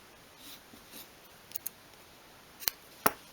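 Small scissors snip crocheted wool yarn for a miniature 1/12 scale bed throw: a few quiet, brief cuts, two crisper snips near the end, over a near-silent background.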